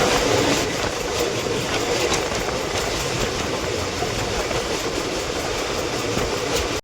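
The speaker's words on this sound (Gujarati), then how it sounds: "જો ટ્રેન અહીંયા ઊભી છે." A train stands at a railway station on a Rajkot to Jamnagar route, giving off a loud, steady rumble with faint clattering that fills the whole stretch, with no voices.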